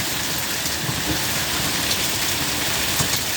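A torrential rain downpour during an Arizona storm, a dense, loud, steady hiss of heavy rain hitting surfaces close by, with no voices.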